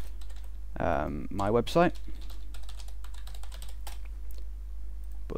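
Fingers type on a computer keyboard in quick, light clicking bursts, fairly soft and close, while someone talks briefly over the start.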